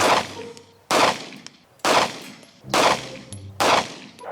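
$100 pistol fired at a one-mile target, five sharp shots spaced roughly a second apart, each a loud crack with a short decaying tail, alone without talk.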